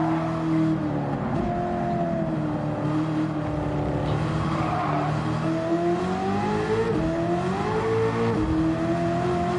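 A Volvo race car in Gran Turismo drones steadily at high revs, its engine tone loud and continuous with gentle rises and dips in pitch as it accelerates and shifts, alone with no voices.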